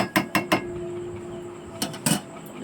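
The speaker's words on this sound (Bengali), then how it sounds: "এবার এটাকে আমি ভালো করে নাড়াচাড়া দেব একটু খুঁতি দিয়ে নেড়ে চেড়ে" A metal spatula scrapes and clinks against a pan while stirring a fish curry with mustard paste, three quick knocks followed later by another short cluster of scraping taps, close by.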